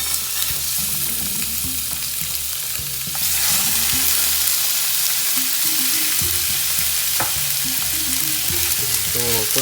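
Pork ribs sear in a hot pan, giving a steady loud sizzle with occasional scraping and stirring knocks, and the frying grows brighter partway through as more meat goes in.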